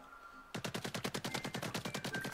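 Rapid ink weapon fire in Splatoon 3 starting after a short quiet moment, a steady, evenly spaced stream of splatting shots about a dozen per second, close and fairly loud.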